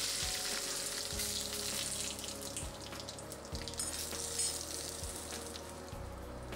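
Mustard seeds, dried red chillies and curry leaves crackle in hot oil for a tempering: a continuous sizzle with sharp intermittent pops over a low steady hum.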